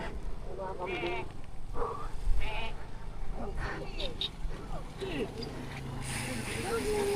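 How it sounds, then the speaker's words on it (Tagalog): Goats bleating outdoors during a motorcycle ride near Baler, several short wavering calls scattered across the clip over a steady background rumble, with people talking in between. "kambing"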